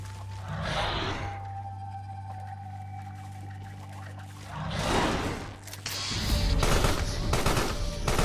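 Gunfire from an enemy's standard gun in the video game Carrion rattles in loud bursts over a low droning game backdrop, with stretches of quieter ambience between them.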